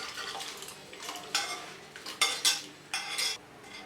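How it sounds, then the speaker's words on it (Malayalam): Cooked pineapple with its cooking water being added to a pan of boiling water for pineapple kesari, giving several short stirring and clattering bursts against the pan with a soft sizzle between them, with no one talking. "ഈ സമയത്ത് നമുക്ക് ഇതിലേക്ക് വേവിച്ച് വെച്ചിരിക്കുന്ന പൈനാപ്പിൾ ആ വെള്ളത്തോടുകൂടി തന്നെ ഇതിലേക്ക് ചേർത്ത് കൊടുക്കാം."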